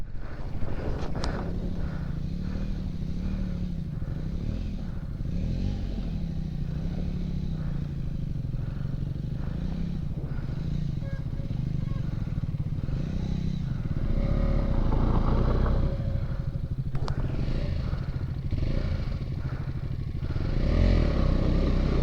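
A motorcycle engine is pushed with too much throttle on a ride through Ruby Valley, a low revving drone that swells louder toward the end, with wind buffeting the microphone throughout.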